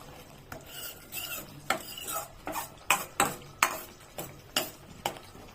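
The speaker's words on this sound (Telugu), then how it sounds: "ఈ చల్లారి పెట్టింది దాన్ని నేను ముక్కలు కోస్తాను." A knife cuts cooled Srihari pakodi, a fried snack, into pieces, giving a series of sharp, close taps and crunches spaced irregularly over a low kitchen background, with no talking.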